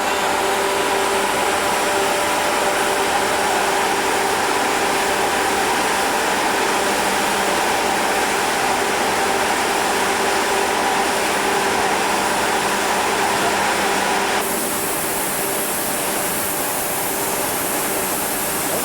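A loud, steady mechanical roar with a constant hum from a fire engine's pump running hard, continuous throughout with a slight shift in tone near the end.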